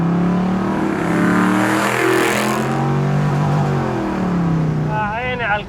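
A Camino car engine revs up loudly and close, its pitch climbing and falling as it accelerates, with a brief burst of higher tones near the end.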